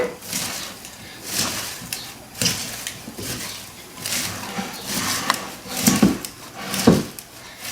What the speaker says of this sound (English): I have some tongs here. You can use a spoon, whatever you have, to mix everything together.